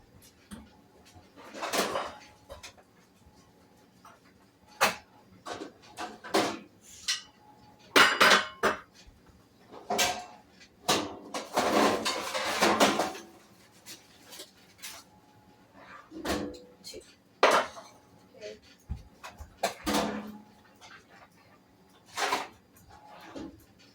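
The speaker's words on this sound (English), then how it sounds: "preheat the oven to 350 and line 2 muffin tins with cupcake papers" Light metallic clinks and rattles of paper cupcake liners being set into two metal muffin tins, a scattered run of sharp close taps and clatters with brief pauses between them.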